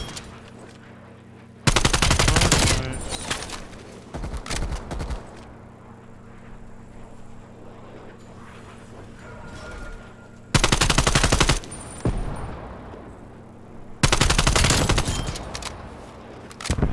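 Three loud bursts of video game machine gun fire ring out close, separated by quieter stretches of background game ambience, with shorter secondary volleys trailing the first two bursts.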